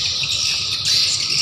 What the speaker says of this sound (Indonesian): walet itu bising juga